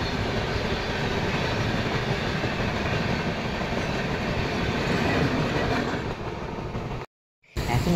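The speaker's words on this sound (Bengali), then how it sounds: "ট্রেন নাম্বার 15643 পুরী থেকে কামাখ্যা নামে পুরী কামাখ্যা এক্সপ্রেস" Puri–Kamakhya Express, train number 15643, rolling along the tracks at night near Balasore station in Odisha: a loud, steady rumble with rhythmic clickety-clack of the wheels, cutting out briefly near the end, with no talk.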